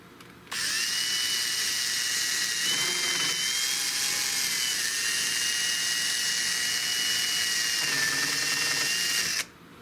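A drill bit bores into a Spanish-made Richland Arms 20 gauge shotgun stock, the motor whining steadily and loud for about nine seconds, with a couple of slight dips in pitch as the bit bites, then stopping abruptly.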